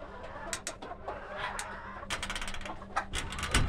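Silkie chickens clucking close by in short, scattered bursts, with soft coos and a low background hum between calls.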